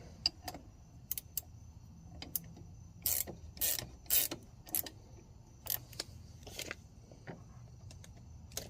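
Adjustment bolts being turned on the clutch pedal shaft of a 1957 Farmall 450 diesel tractor, giving a series of sharp metallic ratcheting clicks in irregular bursts, fairly close and moderately loud against a quiet background.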